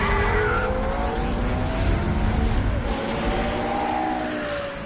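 A 2005 Porsche Carrera GT supercar driving hard, its engine roaring steadily while tires squeal in drawn-out, wavering tones, close and loud throughout.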